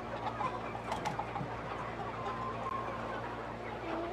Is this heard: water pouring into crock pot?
no